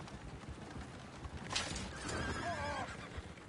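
A horse whinnies in Red Dead Redemption 2, a loud neigh rising mid-clip over a dense bed of game ambience with faint hoof clatter and no talk.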